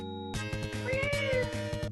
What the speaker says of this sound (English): Chrono Trigger had kitty sound effects